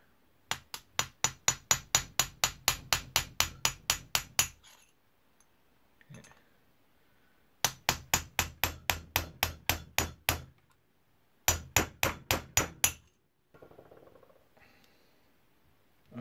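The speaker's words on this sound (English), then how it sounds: "For this I will be using punch and hammer" A hammer strikes a punch to tighten a part on a rusty Sturmey Archer 3-speed AW hub, close up, in three bursts of rapid, evenly spaced metallic taps separated by short pauses.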